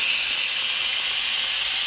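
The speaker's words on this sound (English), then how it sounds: "so as you can see lots of hot steam comes out." Hot steam hisses steadily and loudly from the release valve of a Pressure King Pro electric pressure cooker after cooking prawn and chorizo rice, a constant bright rushing sound with no talking.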